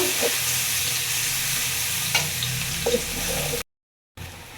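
Chopped onion fries in a pan until reddish-brown, giving a steady close sizzle with a few stirring clicks, then briefly cutting out before resuming.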